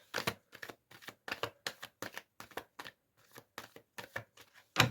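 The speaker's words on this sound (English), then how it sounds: "I'm going to draw another 3 cards" Tarot cards drawn and handled from a deck, a quick run of about a dozen soft, crisp card snaps and slides in an uneven rhythm, close and fairly quiet, with no talking.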